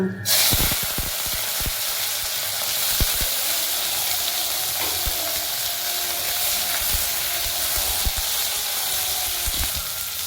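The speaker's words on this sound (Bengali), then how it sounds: "এই বন্ধুরা, সিমগুলোকে একটু হালকা করে ভেজে নিই" Green beans frying in hot oil with dried chili, a dense close sizzle broken by scattered sharp spatula clicks and scrapes, no one talking.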